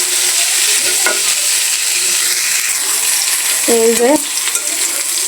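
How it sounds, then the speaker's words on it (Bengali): Red chilies and spices frying in oil in a pan, a steady broadband sizzle running throughout with a brief spoken interjection near the end. "লাল লাল করে ভাজিয়ে নিতে হবে।"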